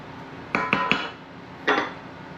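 A spoon clinks against a pot several times while frozen cooked shrimp are stirred into cioppino: three quick metallic taps, a pause, then one more, close and fairly clear with no speech.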